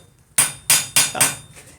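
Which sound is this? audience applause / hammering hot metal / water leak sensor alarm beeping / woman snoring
hammering hot metal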